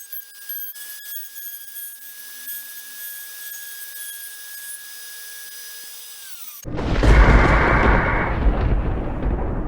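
A router bit cuts a wooden circle for a lazy susan. A steady quiet hum with a faint whine runs for several seconds, then the router kicks in abruptly as a loud, harsh, continuous grinding roar that lasts to the end.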